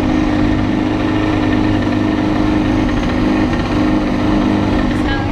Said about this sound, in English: Our engine, the only engine which is starting, the one engine taking there and bringing us back,